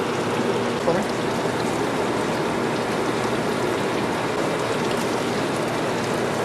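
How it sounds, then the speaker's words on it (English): Steady rushing of water from a garden hose flushing out a car radiator and its fill bottle during a water pump installation, a dense continuous splashing wash that stays even and close throughout, with no talking. "Here we're blocking off the water outlet to the water pump to flush out our radiator and our fill bottle."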